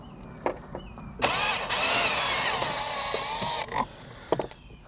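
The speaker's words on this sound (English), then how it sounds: "We have 2 T15 bolts here that we have to loosen." A power driver loosens T15 bolts on the interior trim of a 2021 GMC Sierra AT4. It gives one close, sustained, high whirring burst of about two and a half seconds, with soft clicks and handling noises before and after.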